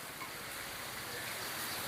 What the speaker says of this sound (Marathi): खूप पाऊस येते.